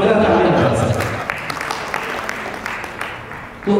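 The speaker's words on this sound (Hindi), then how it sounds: "एक जोरदार ताली बजा सर" An audience at an award ceremony in Agra applauds, starting with a few voices and then a spread of scattered, sharp claps that carry on steadily before thinning out, with a louder burst at the very end.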